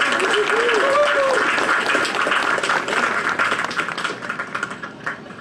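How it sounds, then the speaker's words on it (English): An audience at an outdoor evening concert in a park claps steadily, with a voice talking over the applause and a short whistle early on. The clapping thins toward the end. "go ahead and give him a round of applause"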